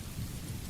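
Soft rain tapping steadily on windows, a dense even wash of patter with no distinct drops standing out, quiet and continuous with no voices.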